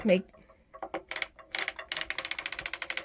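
A circular sock knitting machine being cranked around, giving a fast, regular run of ratcheting mechanical clicks that grows steadier and louder toward the end, after a brief stretch of quiet speech at the start.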